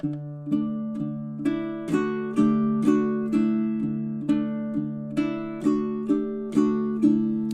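Baritone ukulele fingerpicked over the sound hole on a simple two-chord pattern, its plucked notes ringing and overlapping in a steady, even pulse, close and clear with no voices.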